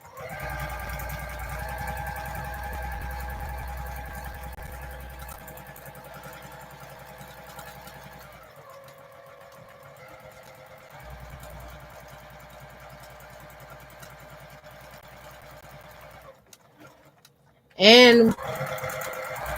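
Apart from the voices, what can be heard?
domestic sewing machine stitching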